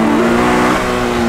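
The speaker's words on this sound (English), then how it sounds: "It revs really quick and really high, up to" A 2022 Polaris Slingshot roadster engine revving hard, its pitch climbing as it spins up to about 8,500 RPM, loud and close, with no voices.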